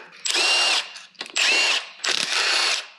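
A power tool spins off the last water pump bolt on a Ford 351W 5.8L V8 in three loud, close bursts of whirring, each about half a second to a second long, with short pauses between them.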